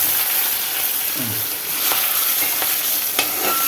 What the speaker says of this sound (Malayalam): അഞ്ചാറ് വെളുത്തുള്ളി ഇട്ട് കൊടുക്കാം ഇഞ്ചി അഞ്ചാറ് കൊടുക്കാം പച്ചമുളക്